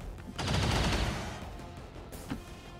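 A shotgun fires in XCOM 2, one loud blast followed by a fading rumble and a smaller crack shortly after.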